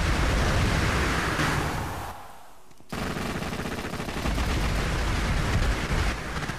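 Extremely rapid modded pistol fire in Borderlands 2, a dense unbroken stream of shots that drops out briefly before resuming just as fast and loud.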